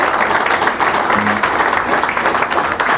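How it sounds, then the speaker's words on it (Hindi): An audience gives loud, dense applause to welcome a guest at a one-day LDP training programme, with continuous clapping throughout. "तो जोरदार ताली के साथ,"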